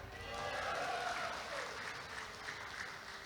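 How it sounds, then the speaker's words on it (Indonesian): A crowd of volunteers at an Indonesian political rally applauds in a steady, continuous wash of clapping, moderately distant and fairly quiet, with no speech over it. "Tepuk tangan"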